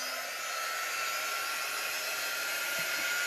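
A hair dryer blows steadily and loudly on freshly applied chalk paste over a Chalk Couture transfer, a continuous broadband whoosh with no break.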